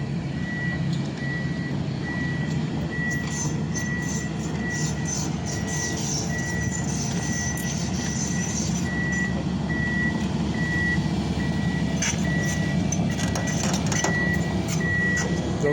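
An earthmoving truck working on house groundwork sounds regular reversing beeps, evenly spaced and repeating over a constant engine rumble, moderately near, with no talk.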